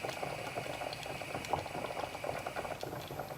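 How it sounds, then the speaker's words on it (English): Chicken and sweetcorn soup boils steadily in a pot, with dense continuous bubbling and small popping bursts, close and moderately loud. "As you can see, it's bubbling nice."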